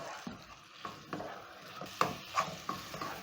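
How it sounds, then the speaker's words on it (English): Pork meat stirred into sauce in a pan produces a series of close, soft scraping and squelching strokes about every half second over a low sizzle, with a couple of brighter utensil clinks. "Stir in my meat into the delicious sauce"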